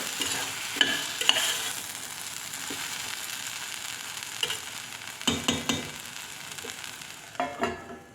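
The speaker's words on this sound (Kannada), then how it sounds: "ಈಗ ಇದಕ್ಕೆ ಹಚ್ಕೊಂಡಿರೋವಂಥ ಟೊಮೊಟೊ ಸೇರಿಸೋಣ. ಚೆನ್ನಾಗಿ ಕೈ ಹಾಕ್ಸೋಣ." Chopped tomatoes are stirred into dal frying in a pan, with a steady close sizzle and occasional scraping stir strokes that grow more frequent toward the end.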